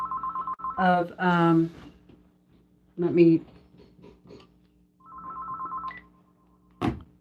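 A telephone rings from an incoming scam call, sounding in two brief bursts of ringing separated by a pause, with someone speaking between and over the rings at close range.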